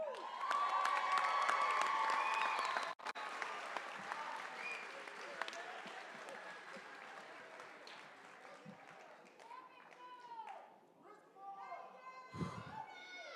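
A high school graduation audience for the class of 2022 bursts into loud applause and cheering with whistles, then tapers off into scattered clapping, shouts and voices, with a dog barking briefly near the end.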